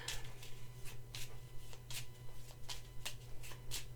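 Lenormand fortune-telling cards being shuffled by hand, a quick run of about eight crisp riffling bursts close to the microphone over a low steady hum, with no voices.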